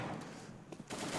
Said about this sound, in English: The P90, they didn't count on him having 50 bullets.